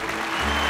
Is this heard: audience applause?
yes